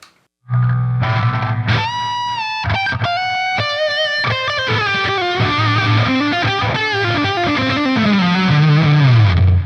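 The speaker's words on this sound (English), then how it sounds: "I have a ping pong delay, and I can add some reverb to that too" Distorted Music Man John Petrucci Majesty 7 electric guitar through a Line 6 Helix ping pong delay, notes ring out with echoing repeats bouncing back and forth, ending in a long sliding bend; loud and with no talking.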